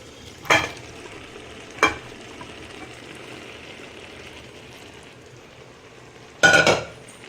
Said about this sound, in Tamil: போட்டுட்டு நல்லா ஃப்ரை பண்ணிக்கலாம்.